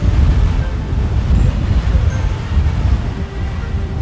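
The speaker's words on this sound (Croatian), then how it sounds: "Jednog dana na grad se s planine obruši snažan vjetar." A strong bura wind sweeps down from the mountains onto a town, a deep, roaring rumble that surges and eases in repeated gusts, with no voices.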